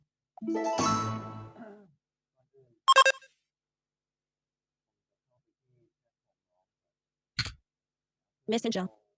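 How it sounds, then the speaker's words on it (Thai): Phone notification chimes ring out as short, bright bursts separated by long stretches of silence, with a brief voice-like sound at the start. "มีการแจ้งเตือน"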